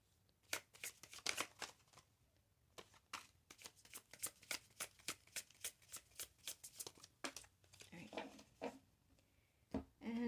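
Rapid bursts of tarot cards being riffled and shuffled, repeated flurries of crisp flicking with short pauses between, close and fairly quiet.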